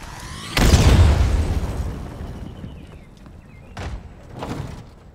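In the video game Halo Infinite, a deep, loud explosion booms and slowly rumbles away, followed by two softer thuds a few seconds later.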